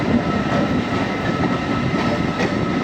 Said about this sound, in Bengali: আমাদের ট্রেন এখন প্রবেশ করছে 4 নম্বর প্ল্যাটফর্মে